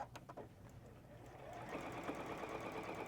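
A Juki sewing machine with a walking foot starts up and runs at a steady, fast, whirring pace, close and fairly quiet, after a few soft handling clicks.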